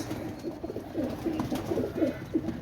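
Pakistani pigeons cooing steadily in soft, low, throaty phrases, repeating close by throughout with no talking.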